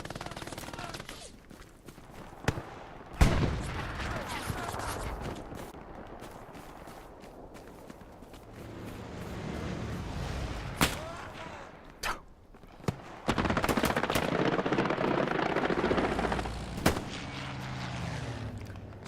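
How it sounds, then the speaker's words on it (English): Gunfire from a strafing run in Hell Let Loose: scattered loud sharp shots and bursts with heavy rumbling stretches of fire, some near, some distant, with voices talking at times. "Strafe and run called into the back to save a garrison"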